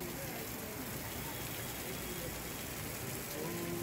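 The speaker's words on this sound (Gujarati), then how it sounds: "અહીંયા ધીમી ધારનો વરસાદ પડી રહ્યો છે।" Light, steady rain falls in Dehgam, Gandhinagar, Gujarat, making a faint, continuous broadband hiss with no distinct drops standing out.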